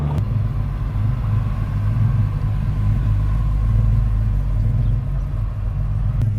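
An Audi RS3 8Y engine in performance mode with exhaust valves fully open, deep throaty rumble heard from inside the cabin, steady and loud with no talk.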